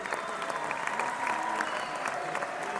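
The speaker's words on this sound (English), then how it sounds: "I was really hoping you guys would give me a round of applause." A round of canned applause plays as a sound effect on a live call-in stream, steady dense clapping that runs for about three seconds at even loudness with no voices over it.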